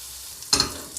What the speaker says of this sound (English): we're just going to give this a toss, make sure all of that bacon is coated in the black pepper.